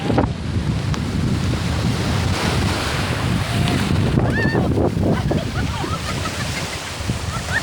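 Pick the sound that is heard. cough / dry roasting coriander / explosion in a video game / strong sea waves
strong sea waves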